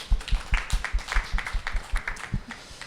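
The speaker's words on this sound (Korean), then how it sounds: "박수 한번 주세요." Studio audience claps along in a steady, rhythmic beat at a bowling TV broadcast; the claps come close and even for a few seconds with no talk over them.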